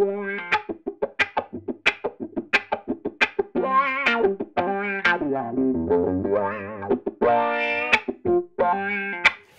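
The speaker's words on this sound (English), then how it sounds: "And so you hear very, very, very light wah-wah effect." Electric guitar played through an Xotic Wah XW-1 wah pedal with the bias rolled all the way up, plucked notes and chords with a strong vocal sweeping wah, close and clear, no talk.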